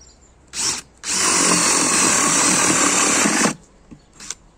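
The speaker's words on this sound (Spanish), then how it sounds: "lo que demoró en hacer el agujero de pala fue eso" A Dewalt DCD777 20V cordless drill with a sharp spade bit gives a short burst, then whines steadily for about two and a half seconds while boring a hole, loud and close, before stopping with a faint blip after.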